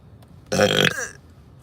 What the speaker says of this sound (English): why am I burping?